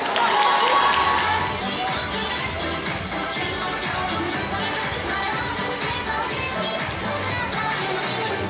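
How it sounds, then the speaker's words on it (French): A convention audience applauds and cheers after a dance performance, a loud, dense wash of clapping and crowd noise that holds steady for the whole stretch. "On applaudit bien fort."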